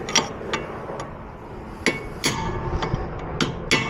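A dulled-down chisel struck with a hammer while working on a Suzuki Aerio alternator, a series of sharp metallic taps spaced irregularly, close and clear with no talking.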